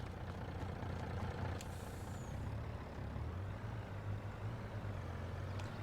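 A truck in Farming Simulator 22 rumbles along, a low engine drone with soft shifting swells and faint brief high hisses, heard alone without voices.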